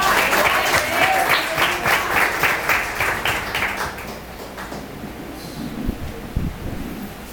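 Church congregation at a missions worship service applauds with rhythmic, strong clapping that tapers off after about four seconds into rustling and murmur, with faint voices and a few thumps near the end.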